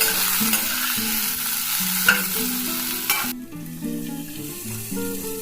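Chopped capsicum sautéing for a dahi sabji, loud steady sizzle in a pan with a spatula stirring and scraping, the hiss dropping suddenly partway through while scraping continues.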